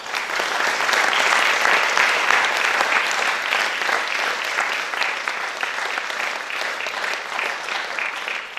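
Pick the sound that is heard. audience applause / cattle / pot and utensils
audience applause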